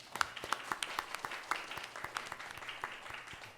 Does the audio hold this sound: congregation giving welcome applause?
yes